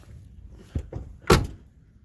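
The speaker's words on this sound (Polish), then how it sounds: "Zamknę drzwi, bo coś tu nam się zbliża." The door of a 1977 Mercury Grand Marquis thuds shut with a solid, close slam, preceded by a couple of softer clunks of the door moving.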